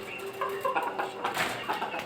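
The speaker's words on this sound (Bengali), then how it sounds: "আর নিচতলাতে আমার অন্য মুরগি।" Several chickens in the lower tier of a homemade coop cluck softly in short, overlapping bursts, moderately close, with a low background hum.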